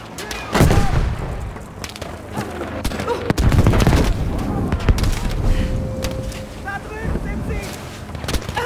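Gunfire from the Battlefield V video game cracks out in sharp bursts and scattered shots, with booming explosions and wind noise, while a player talks over the action.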